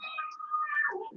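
A house cat gives a single drawn-out meow, quiet and fairly close, in an otherwise silent room.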